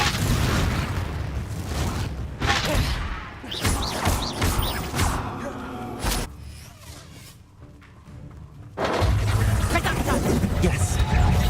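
Confringo blasting spell explosions in the video game Hogwarts Legacy: several loud, sharp bursts and booming crashes close by, separated by brief lulls, with a voice talking over the action.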